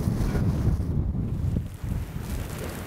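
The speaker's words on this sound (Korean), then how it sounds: "바람 터지기 시작했네 벌써" Strong wind picking up at sea on a tuna fishing boat, roaring steadily and loudly across the microphone with rushing gusts and water noise, no voices.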